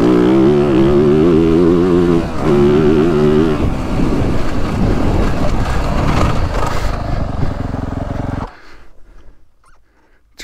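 A 2023 Yamaha YZ450F Monster Edition dirt bike engine revs loudly and close while riding on a GP track, rising and falling through throttle changes with wind buffeting, then cutting away abruptly near the end.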